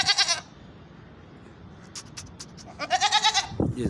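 Goats bleat at a busy Karachi goat market, with two loud, quavering calls close by, one at the start and one near the end, and a quieter stretch of market noise and faint clatter between them.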